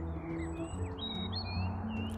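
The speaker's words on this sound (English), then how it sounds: "Loving the birds." Several birds chirp and tweet in short, high calls over a steady low background hum, fairly close and continuous.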